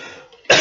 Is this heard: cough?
yes